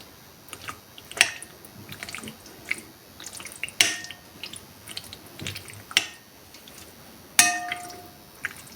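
Marinated chicken is stirred with yogurt in a bowl: wet squishing and soft slaps are punctuated by several sharp metallic clinks of a spoon striking the bowl at irregular intervals, close and fairly quiet.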